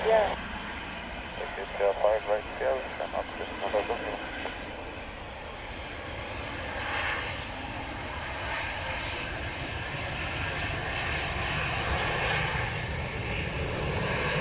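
An airliner comes in to land at Dublin Airport in gusty wind, a broad rumbling engine roar that builds and holds steadily, with a voice talking briefly at the start.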